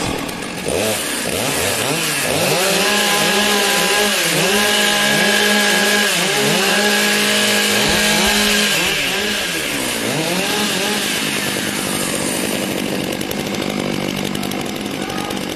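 Several chainsaws idle and rev together at a STIHL Timbersports pro competition, a loud continuous buzzing with repeated rising and falling throttle blips as the saws warm up on stage.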